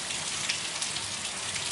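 Heavy rain pours steadily onto a tiled roof, a dense, even hiss with no pauses or voices.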